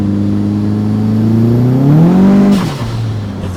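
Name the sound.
turbocharged Nissan 240sx engine accelerating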